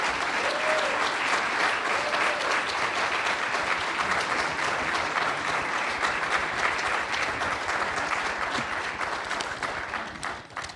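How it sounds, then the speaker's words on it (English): A large audience applauds steadily for about ten seconds, a dense, even wash of clapping that tapers slightly at the end. "please, a round of applause for Ambassador to Hindon."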